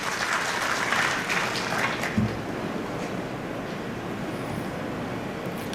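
Crowd applause fills the space, a dense wash of clapping that is loudest at first and then settles into a steady, softer patter.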